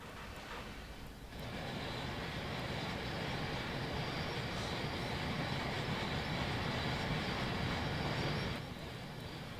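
A simulated Queensland sugar cane train in the Trainz game backing slowly into a siding, a steady broad rumble of locomotive and wagons rolling that swells in, holds for several seconds, then eases off.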